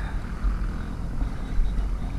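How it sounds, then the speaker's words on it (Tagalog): A boat runs across the water with a steady low engine rumble and wind rushing past, continuous and loud with no pauses. "Dala pa rin tayo ng bangka."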